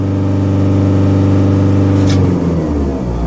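A RAM ProMaster 3.0L diesel van engine with a low-power limp-mode fault holds a loud, steady high-idle rev, then drops off as the throttle is released, with a brief click near the end.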